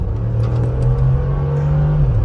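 A Mercedes G-Wagon in sport mode accelerates with a steady, deep engine drone that swells briefly then eases off, a close, continuous rumble with no talking over it.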